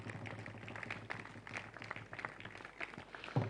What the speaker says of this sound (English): I think Dutilex deserves a resounding round of applause.